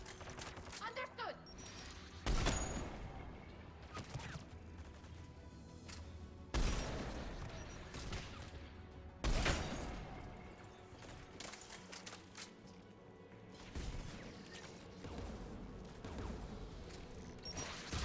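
Anti-aircraft guns in the video game Mass Effect 3 fire in loud, booming bursts roughly every few seconds, with rumbling battle noise and scattered voices in between.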